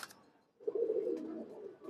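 Fancy pigeons such as silver and Bezi breeds coo in a home loft: a faint chirp, a short pause, then a single soft, close rolling coo lasting about a second.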